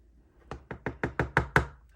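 A quick run of seven sharp knocks of a card on a hard surface to shake off embossing powder, evenly spaced and growing slightly louder, with nothing else audible.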